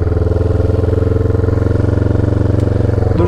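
A 330cc motorcycle pulling away after the clutch is eased out, its engine droning loud and steady at close range with a rough, pulsing note throughout.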